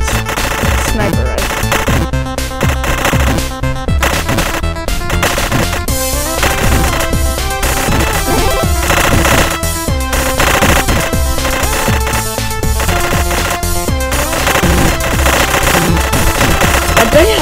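Dense, loud gunfire and chaotic effects from the Super Amazing Wagon Adventure video game, continuous rapid shooting layered over game music throughout.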